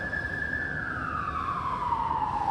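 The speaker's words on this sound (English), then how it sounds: "You can hear the ambulances, welcome to the city." An ambulance siren in the city wails with one long falling tone, moderately distant over a low traffic rumble, with no talk.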